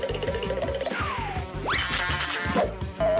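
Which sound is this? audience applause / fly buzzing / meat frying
fly buzzing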